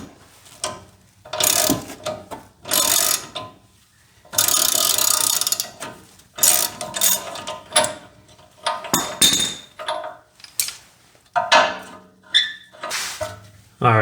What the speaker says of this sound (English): And then I have my puller here, and I'm just tightening it down.